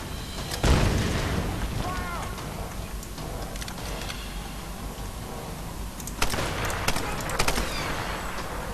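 An explosion in the Tomb Raider video game: a sharp, loud blast early on, then rumbling debris and scattered bursts and crackles later, with a voice talking over parts of it.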